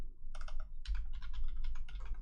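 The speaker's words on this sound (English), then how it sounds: "Matt hit Command Option / and Xcode automatically filled in some / little template things" Quick bursts of keystrokes on a computer keyboard while entering the Command Option / shortcut in Xcode, clicking in close clusters for about two seconds with no talking.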